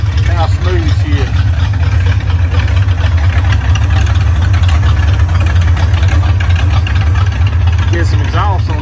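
A 1968 Ford Mustang engine, without exhaust fitted, idles loudly and close with a steady low rumble, while someone talks over it.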